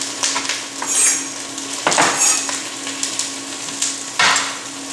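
Cabbage braising in a pan with a continuous sizzle, punctuated by a few sharp clanks of a utensil stirring against the pan, close and with no talking.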